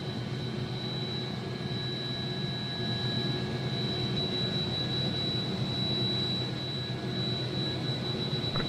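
An AW-109 helicopter's turbine engines spooling for takeoff in the Prepar3D flight simulator, a steady, loud whining drone with sustained high-pitched tones and no break.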